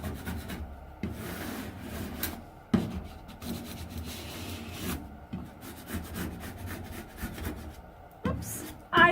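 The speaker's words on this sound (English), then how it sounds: "I'm going to be careful when I burnish that area because it's got two seams" Burnishing tool rubbing over vinyl wall art where two overlapping seams meet, a steady scraping rub in repeated strokes, close and fairly quiet, with a brief louder scrape near the end.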